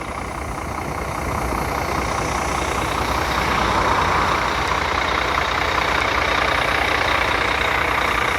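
A 12-ton Volvo truck on Dubai plates idles with a steady, loud low diesel rumble that holds constant throughout, with no talk over it.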